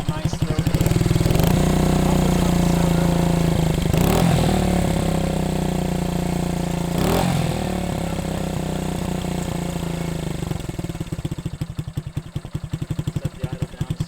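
A 1971 Honda CB100 motorcycle engine idles after a cold start, heard close at the muffler with a steady loud putter, a couple of brief blips, then settling into a slower, uneven chugging idle toward the end.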